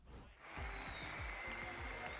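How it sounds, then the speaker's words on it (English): Crowd at the Fortnite Global Championship 2025 esports tournament cheering and applauding loudly, a steady dense roar of clapping and shouts that swells and holds throughout, with a low rhythmic music beat beneath. "This crowd is going crazy."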